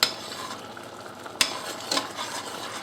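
Cracked whole wheat berries toast and rustle in a pan as they are stirred on low heat, a steady dry scraping with a few sharper clinks of the spoon against the pan, close and moderately loud.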